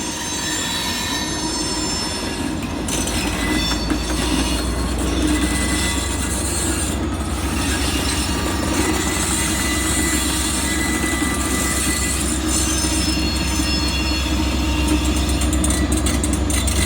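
A Union Pacific train rounds a sharp curve at night while switching at an industrial rail spur on the Mankato Subdivision. Its wheels give a loud, continuous metallic squeal over a heavy rolling rumble, close by and sustained throughout.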